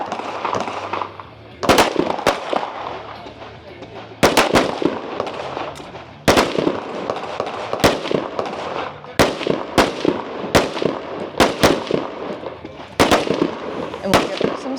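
Rapid pistol gunfire rings out at a practical shooting competition stage, with sharp, loud shots coming in quick strings and clusters separated by brief pauses.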